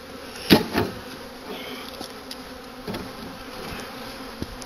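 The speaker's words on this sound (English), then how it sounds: "heard the telltale crunch of bees" Bees buzzing around an opened hive during a late winter apiary check, with a few sharp crunching snaps near the start as a heavy hive box is moved, then a low steady hum with faint scattered clicks.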